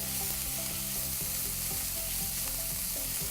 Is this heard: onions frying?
yes